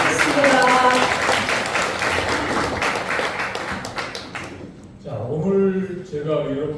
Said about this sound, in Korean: 여러분의 뜨거운 박수로 무대로 모시겠습니다